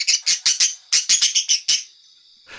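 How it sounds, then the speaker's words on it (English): A bird chirps in quick, bright bursts, about a dozen short high trills in an uneven rhythm, close and clear, ending in a thin sustained whistle after a pause. "his melodious chirping attracted a group of curious and excited young animals"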